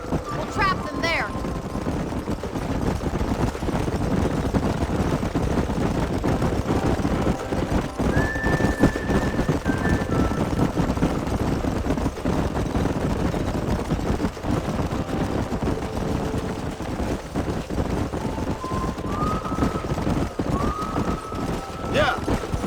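Horses galloping across a canyon in Red Dead Redemption, a continuous drumming of hooves with whinnies cutting through, loud and close, while characters talk over the herd.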